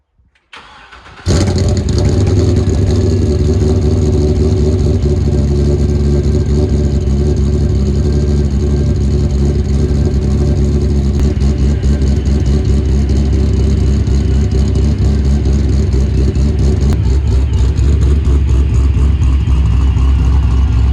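A boosted S10 truck engine cold-starts abruptly after a moment of quiet, then settles into a loud, rough, close idle with occasional revving that holds for the rest of the clip.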